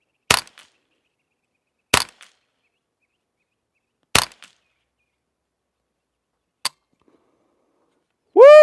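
Four sharp rifle shots from a Volquartsen Snake Fluted rifle fired at targets, spaced about two seconds apart with silence between, followed by a brief ringing tone at the end.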